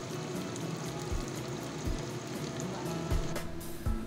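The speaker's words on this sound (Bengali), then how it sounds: "ধোয়া মাছগুলো নুন হলুদ মাখিয়ে কড়াইতে ছেড়ে দিলাম" Pabda catfish rubbed with salt and turmeric fry in a kadai of oil, giving a steady close sizzle and crackle with occasional soft thumps and pops throughout.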